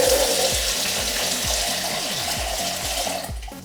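Water from a bowl goes into a pot of cooking callaloo, a continuous rushing splash over a faint repeating rhythmic clatter, fading slightly at the end.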